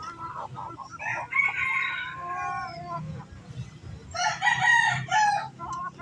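A young rooster crows twice nearby, its strained, wavering calls standing out over low background noise.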